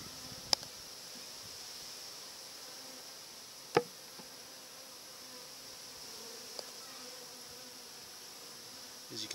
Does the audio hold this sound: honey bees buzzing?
yes